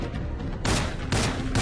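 Gunfire in the video game Rogue Trooper: bursts of rapid shots in two clear volleys, loud and close, with no talk over them.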